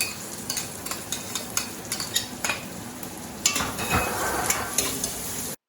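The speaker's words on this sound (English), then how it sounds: "once the onion is half boiled, we are half fried, we are going to add the masalas and ginger into it." Onion frying with masalas and ginger for a Neyyassery-style mutton stew sizzles in the pan while a spoon scrapes and clinks in repeated quick strokes, close and clear, with no voices.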